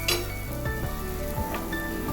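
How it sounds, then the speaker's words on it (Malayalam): Crushed raw mango hits a hot pan for a raw mango rasam, giving a close, continuous sizzle with faint clinks over a steady low hum, no voices. "ഇത് നമുക്ക് ചതച്ച് വെച്ച മാങ്ങ ഇട്ട് കൊടുക്കാം"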